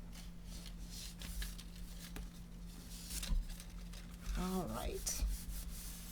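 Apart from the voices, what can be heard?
burnishing down paper piece on gatefold mini album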